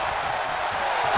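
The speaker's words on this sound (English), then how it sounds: "The sound of this crowd is deafening" Loud, continuous roar of a wrestling arena crowd in a video game, a dense sustained wash of cheering and noise with no pauses across the short moment.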